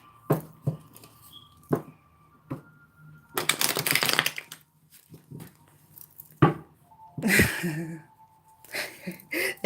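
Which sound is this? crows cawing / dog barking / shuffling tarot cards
shuffling tarot cards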